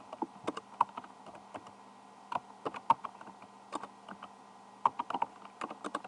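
Keys on a computer keyboard are tapped in short, irregular bursts of crisp clicks with pauses between them, close by and fairly quiet, with no talking.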